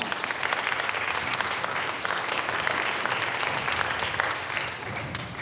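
A class audience applauds a student team about to give a project presentation. Steady, even clapping from many hands fills the whole few seconds without a break.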